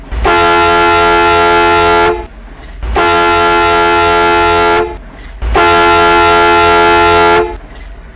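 In a video game, a Hino 500 truck's air horn gives three long, loud, steady blasts of about two seconds each, separated by short pauses.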